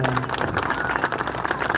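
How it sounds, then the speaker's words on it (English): Audience applause at a live community event on gun violence, loud close clapping with crowd noise and some voices mixed in, steady throughout. "can you give me a better round of applause?"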